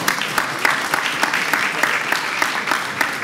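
An audience at a round-table conference session on global migration claps loudly and steadily, with distinct sharp claps landing in a rough rhythm throughout and no voices over it.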